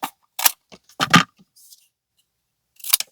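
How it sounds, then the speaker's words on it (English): Scissors snip through paper and tape while making a handmade traveller's journal: a few short, crisp cuts spaced across a couple of seconds, close and moderately loud, with quiet pauses between. "Just gonna cut it."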